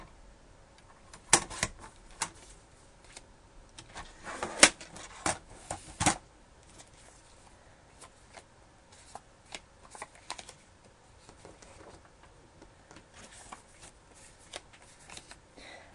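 Paper being cut on a Hop Scotch cutting guide for a scrapbook layout: a quiet series of sharp ticking clicks and slicing scrapes, clustered in bursts with pauses between, close and fairly soft with no talking.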